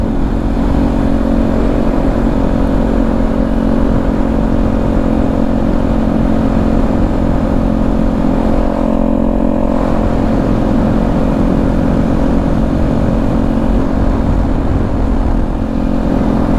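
Steady engine drone from a moving motorcycle, loud and continuous with wind noise, a brief dip midway, no talking.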